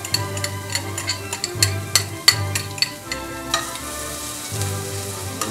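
Garlic, red chili flakes and ginger sizzle in a hot pan, a steady crackling fry broken by scattered sharp clicks and scrapes of stirring, heard close with no voices.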